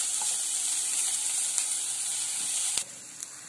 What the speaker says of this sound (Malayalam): ഞാനിപ്പോ പാൻ വെച്ച് കുറച്ച് ഓയിൽ ഒഴിച്ചെടുത്തിട്ട് ഇതൊന്ന് വഴറ്റാൻ വെച്ചിട്ടുണ്ട്